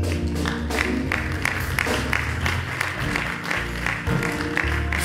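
Congregation clapping during a lively service at a Pentecostal church in Columbus, Ohio, rhythmic hand claps pulsing steadily alongside music and crowd noise, fairly loud and close.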